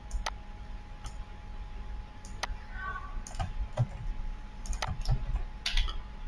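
Scattered clicks of typing on a computer keyboard, a few sparse keystrokes spread over several seconds against low background hum, with no talking.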